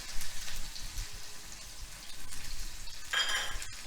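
Finely chopped onion with asafoetida frying in hot oil for a Marathi drumstick dal, giving a steady close sizzle with soft crackling throughout and a brief brighter hiss near the end.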